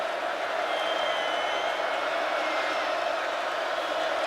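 A packed stadium crowd at a college football game, Oklahoma at West Virginia, roars as a steady, dense wash of noise with no breaks, heard at a distance beneath a broadcast.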